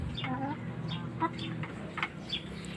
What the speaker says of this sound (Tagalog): Ito nga pala ay black horse na asel na manok.